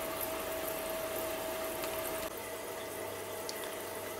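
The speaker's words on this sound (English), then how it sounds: "it should start the post-production flush, which is a full flush of 5 minutes" Homemade reverse osmosis machine running its post-production water flush: a steady, low rushing hiss of water and pump hum, unbroken and fairly quiet, with a faint click partway through and no talking.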